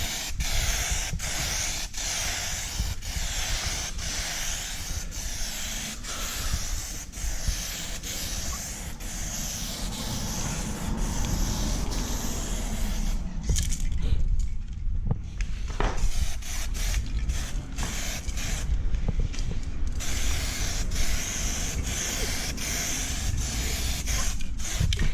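Steady spray-gun hiss lays another coat of paint onto a Yamaha Vmax motorcycle part, a continuous close airy rush with brief pauses and sputters between passes.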